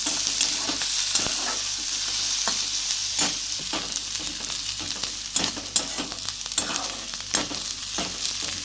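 Onion sautéing in a small amount of oil for tomato bhaji, a continuous close sizzle broken by frequent scraping and tapping as it is stirred in the pan.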